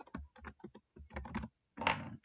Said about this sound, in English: I'll type it here.